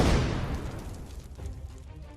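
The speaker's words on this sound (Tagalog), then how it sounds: "Kasunod niyo na yung malakas na pagsabog." A grenade explosion in a dramatized horror story goes off as a heavy, low boom that opens loud and rumbles away over about two seconds, with no voices.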